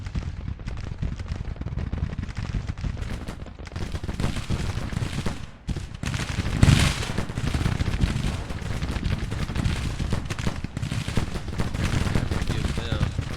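Cannon fire in the Civil War strategy game Grand Tactician, with a dense, continuous rumble of booming shots and crackling gunfire throughout, loud and sustained, with a voice occasionally talking over it.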